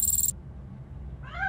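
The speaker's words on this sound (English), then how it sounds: "That cat must be hiding inside." A cat meows in the video game RoboCop: Rogue City, one short rising meow near the end after a brief high electronic tone and a quiet low ambient hum.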